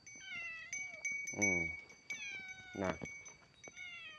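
A cat meowing up close, several drawn-out wavering meows spaced across the stretch, alternating with a person's voice talking nearby.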